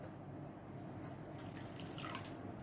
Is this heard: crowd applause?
no